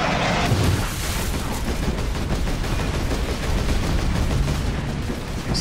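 Dense, continuous gunfire and explosions from the video game Warhammer 40,000: Space Marine roar loudly and without pause, a sustained wall of shooting with no talk over it.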